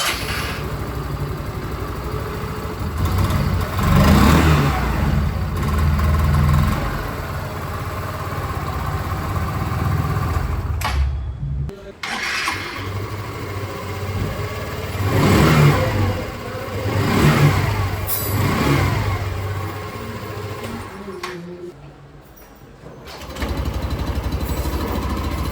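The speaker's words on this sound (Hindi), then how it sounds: "तीनों ही स्कूटर की बारी बारी से जो एग्जॉस्ट साउंड है वो भी मैं आप लोगों को सुना देता हूँ" Hero Xoom 110, 125 and 160 scooter engines rev up and drop back in repeated bursts, one after another, loud and close, with brief pauses between runs and idling in the gaps.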